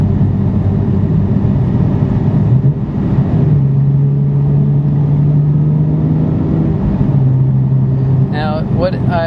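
A car engine held at full throttle without gaining speed, a loud steady droning rumble with a sustained vibrating hum that wavers but never climbs, heard from inside the cabin.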